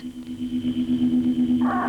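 A steady electronic tone from the BBC Radiophonic Workshop, played from tape, hums with a faint pulsing wobble, joined near the end by a brighter, warbling burst of synthetic noise.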